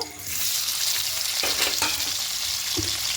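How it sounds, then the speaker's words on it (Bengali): Paneer pieces fry in hot oil, giving a continuous dense sizzle with a few scattered stirring clicks and knocks, no talking. "পনিরটা দিয়ে হালকা একটু ভেজে নেব"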